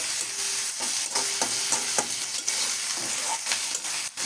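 Onion with ginger and green chili paste frying in a pan, a continuous sizzle broken by regular rhythmic scrapes of stirring, close and fairly loud without speech.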